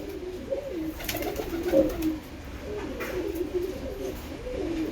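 Pigeons coo in low, rolling murmurs while being given water, several birds overlapping in a continuous soft burbling close by, with faint background clatter.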